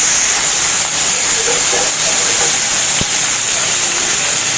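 Curry leaves hiss and spit in hot oil, making a loud, continuous, steam-like rush up close, with faint stirring scrapes beneath and no speech.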